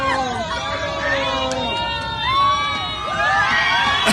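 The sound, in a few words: airplane passengers cheering on a flight attendant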